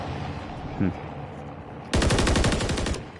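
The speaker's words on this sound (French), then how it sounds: "Il tire sur le véhicule" Gunfire crackles in Call of Duty: Modern Warfare 3 as a loud, rapid automatic burst that lasts over a second, after a brief voice and a quieter moment of game ambience.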